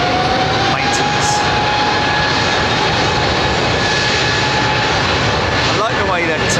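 Jet airliner engines roar loudly and steadily at Heathrow Airport, a broad sustained rumble with a whining tone running throughout, while someone talks over the noise.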